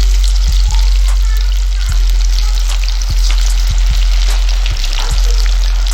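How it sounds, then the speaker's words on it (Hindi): Fish pieces sizzle and fry in very hot oil for a Lahori masala fish fry, a steady loud crackling hiss with scattered sharper pops throughout, no voices heard. "तो अब हम जो फ़िश है ये इसमें ऐड कर लेंगे। ऑयल को तेज़ गरम होने चाहिए, तो ऑयल हमारा बहुत तेज़ गरम है।"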